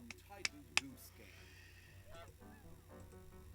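Short cartoonish goose honks from Untitled Goose Game sound faintly beneath people talking, with a couple of sharp clicks early on.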